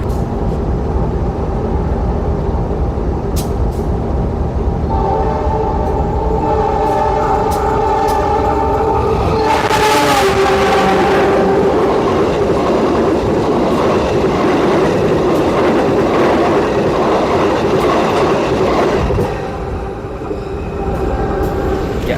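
An old KA Serayu economy-class passenger train rolls along the rails between Purwokerto and Bandung, with a loud, continuous rumble and rattle from inside the coach that swells into a harsher roar mid-way and then eases slightly.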